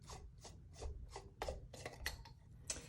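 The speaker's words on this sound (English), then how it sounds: "All you do is you unscrew here," Plastic housing of a JBJ NanoZapp UV sterilizer being unscrewed, a close rhythmic series of dry scraping clicks, roughly eight evenly spaced twists over a few seconds, with no speech.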